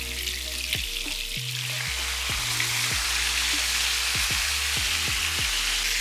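Slices of pork neck fry in a pan, giving a dense, continuous close sizzle with a series of sharp clicks and pops scattered through it.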